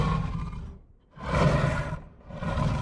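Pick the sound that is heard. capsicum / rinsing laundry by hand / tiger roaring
tiger roaring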